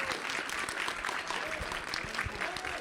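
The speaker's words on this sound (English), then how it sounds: "Give her a round of applause" A live audience applauds loudly at a Classic Tetris World Championship main-stage qualifying event, a dense, steady wash of clapping with cheers that fills the room and carries on unbroken.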